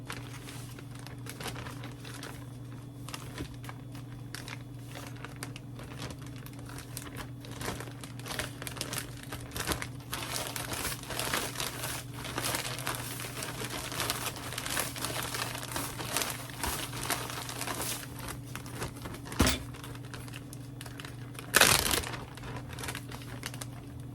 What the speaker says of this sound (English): we are going to put the fish in the bag of fish fry